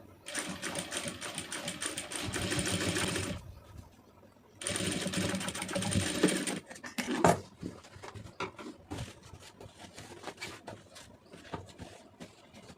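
A sewing machine stitches an aari blouse in two runs of steady rapid clatter, each a few seconds long with a short pause between, followed by scattered handling taps and rustles.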